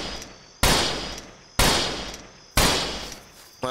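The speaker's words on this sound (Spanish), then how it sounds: "le di cuatro tiros en el pecho" Four sharp gunshots ring out about a second apart in the Roblox western game Westbound, each a loud crack with a long decaying tail, fired at a deer.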